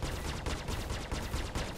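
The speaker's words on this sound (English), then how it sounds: "Who keeps shooting missiles at me?" Missiles striking and firing around a player's Aurora ship in the space game Star Citizen, a dense, continuous rattling barrage at moderate volume with no voices.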